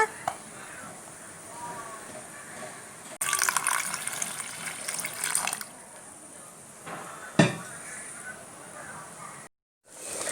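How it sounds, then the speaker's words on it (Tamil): Water poured over tamarind to soak while cooking Chettinad-style paasipayaru kuzhambu, a short splashing gush of liquid into a bowl between quieter kitchen moments, with a couple of faint knocks and a brief drop to silence. "இந்த அளவு புளியை எடுத்து நம்ம தண்ணியில் ஊற போட்டு வச்சிடலாங்க."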